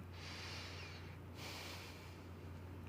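A person demonstrating aroused breathing with two long, deep, airy breaths, an extended inhale and then another sustained rush of air, close to the microphone over a low background hum.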